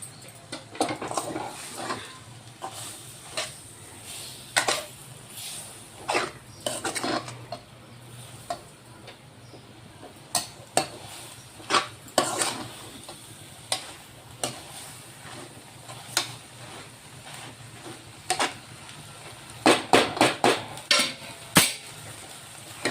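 Drumstick leaf (moringa) vegetable is sautéed with sambar masala in a pan, steady sizzling beneath repeated sharp scrapes and taps of a spatula stirring, close and fairly loud, no voices.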